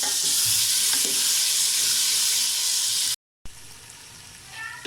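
Cumin and chickpeas fry in hot oil with a loud, dense, continuous sizzle that cuts out briefly, then returns quieter with a few stirring scrapes.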